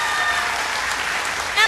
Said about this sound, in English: Round of applause for Wesley Midian.